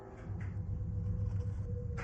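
Judith's car approaching: a low, steady engine rumble close by, continuous throughout with a slight swell, no voices.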